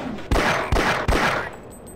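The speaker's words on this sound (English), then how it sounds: "I'm assuming that the gun sounds are back now because there's a bunch of noise happening." Gunfire in the VR game Half-Life VR: three loud, sharp shots about 0.4 seconds apart, each leaving a decaying roar before the scene goes quiet.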